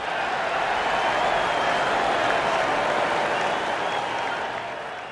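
Sustained crowd applause and cheering from golf gallery spectators after a shot at the WM Phoenix Open in the PGA TOUR 2K25 video game, a dense, steady roar of clapping that tapers slightly at the end.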